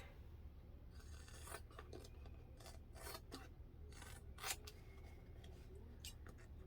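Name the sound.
scissors trimming fabric seam allowance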